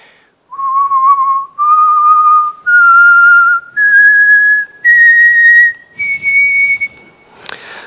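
Six whistled notes climb step by step in a pentatonic scale whose intervals match the piano's black keys. Each note is clear, sustained and loud, with short gaps between them.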